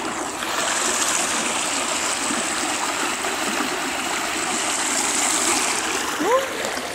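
Water gushing steadily from a newly restored village water supply, a continuous broadband rushing stream that holds at an even level throughout, with a faint brief voice near the end.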